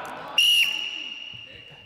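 A sharp, piercing whistle blast cuts in abruptly and holds steady for about a quarter second during a par-impar group game in a gym, then trails off into room noise with faint movement.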